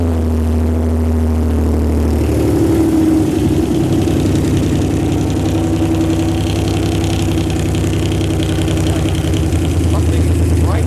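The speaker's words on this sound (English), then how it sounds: "Well, it runs. I mean, it's got VQ noise." A Nissan VQ V6 engine idles steadily and loudly for the whole stretch, a dense low rumble with a steady mechanical whine, recorded up close with no break.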